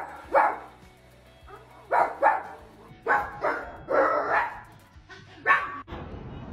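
A woman imitates a dog barking, giving a series of loud, close, yappy barks in short bursts of one or two, separated by brief pauses.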